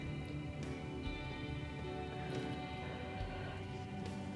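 Steady rain falling outdoors, a soft continuous hiss of drops on surfaces heard from indoors, quiet and even throughout with no other distinct sounds.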